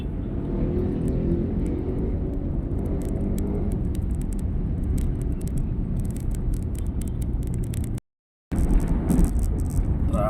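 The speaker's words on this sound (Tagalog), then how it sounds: "Traffic" Steady road traffic rumbles continuously with passing cars, broken by a brief half-second dropout near the end before the traffic noise resumes.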